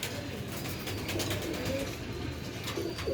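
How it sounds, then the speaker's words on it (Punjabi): Pigeons on a rooftop coo softly while pecking at scattered grain, a steady low murmur of cooing under faint background noise with no talking. "ਮਾਸ਼ਾਅੱਲਾ ਪਰਿੰਦੇ ਸ਼ਰਿੰਦੇ ਦਾਣਾ ਖਾ ਰਹੇ ਨੇ ਸਾਰੇ"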